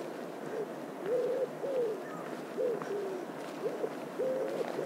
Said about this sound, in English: Wood pigeon cooing in the woods.